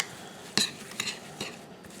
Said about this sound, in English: So we just stir this together.